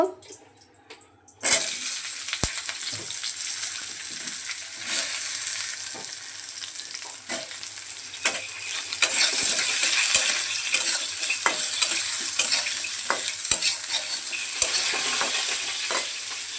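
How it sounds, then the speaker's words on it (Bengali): Eggplant pieces drop into oil left from frying potatoes, setting off a sudden loud sizzle that stays strong and hissing, with occasional clinks of a stirring utensil against the pan. "আলু ভাজার তেলে বেগুনগুলো ভেজে নেব"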